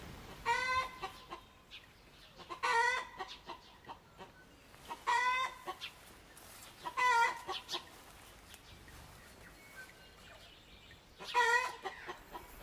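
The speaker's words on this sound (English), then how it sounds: "the unusual birds that filled the campsites with melody, even if domesticated" Chickens cluck and call in short bursts every couple of seconds, fairly faint and distant, with quiet background between the calls.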